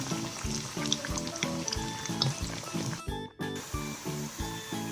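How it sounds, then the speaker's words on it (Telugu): Pieces of taro root (colocasia) sizzle steadily in hot oil in a pan, a continuous bright frying hiss with rhythmic low thumps from stirring, and a short break partway through. "ఇలాగా కలర్ వచ్చే వరకు వేయించుకోవాలి అలా సౌండ్ రావాలి"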